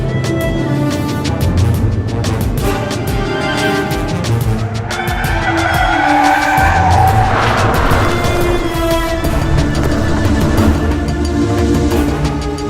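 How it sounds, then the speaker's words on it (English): Car without ESP skidding after an abrupt swerve around a parked truck, with engine noise and tires squealing and scrubbing, the skid building loudly in the middle and continuing to the end. "the vehicle starts to skid"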